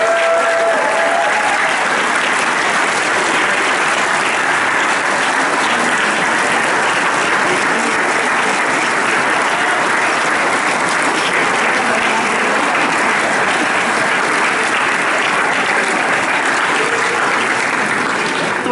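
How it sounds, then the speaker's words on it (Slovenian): Sustained, dense applause from a theatre audience for the actors at a premiere, many hands clapping steadily without letup for nearly twenty seconds. "To je bil največji aplavz igralcev, seveda."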